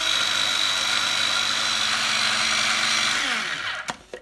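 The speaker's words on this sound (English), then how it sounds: "Place the mint leaves into a little chopper." A small electric kitchen chopper whirs loudly while blending mint leaves, a steady high motor drone that runs for several seconds, then winds down and stops with a few clunks.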